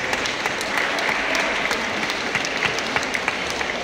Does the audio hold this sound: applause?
yes